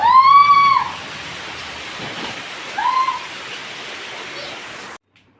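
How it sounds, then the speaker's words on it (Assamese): Heavy rain pours down steadily at a home, a dense continuous hiss that fills the whole clip, with a couple of brief tonal calls rising above it before the sound cuts off abruptly. "পুৰা বৰষুণ দিছে।"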